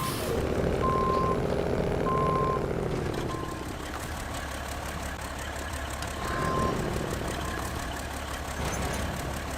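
Truck in SnowRunner on hard mode reversing toward a trailer in the woods: evenly spaced reversing beeps over a loud idling engine rumble, a few beeps at first then another later, the engine tone shifting as it moves.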